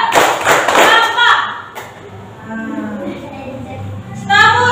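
A classroom group does a rhythmic counting chant with claps and thumps. Voices shout along in unison between the claps.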